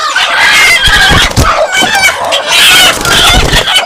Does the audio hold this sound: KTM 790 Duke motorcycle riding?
no